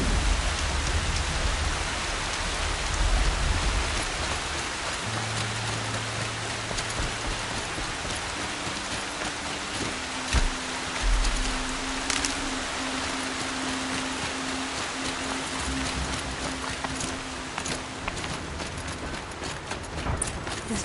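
Steady rain pours throughout a Horizon Zero Dawn game scene, a dense, even hiss of falling drops with faint low tones and occasional knocks beneath, no talking.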